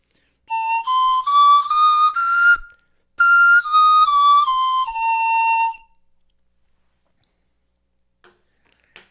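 A replica Jorvik panpipe plays two short breathy melodic runs of pure whistling notes, the first rising and the second falling, loud and close with no talk, followed by several seconds of near silence.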